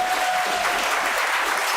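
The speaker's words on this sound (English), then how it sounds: "Big round of applause for the people watching at home." Applause rings out in a live show studio, a dense, steady clatter of clapping that holds at an even level throughout the short burst, with no voices over it.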